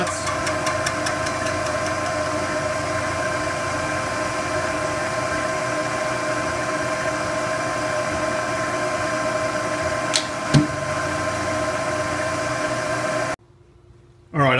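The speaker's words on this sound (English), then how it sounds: "Just taking a light skim cut right now, just to see how it's gonna act." Machine tool running steadily through a light skim cut on a workpiece, a continuous droning hum with strong tonal bands and a couple of brief clicks near the end before it cuts out to near silence.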